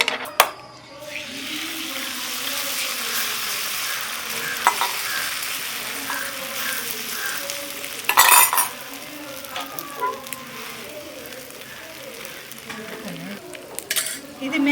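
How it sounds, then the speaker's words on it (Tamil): An omelette sizzles steadily on a small oiled dosa griddle, with a soft continuous frying hiss broken by occasional scraping stirs and utensil clinks against the pan. "நம்ம சின்ன தோசைக்கல் வச்சுட்டு நம்ம ஆம்லேட் போட்டுக்கலாம்"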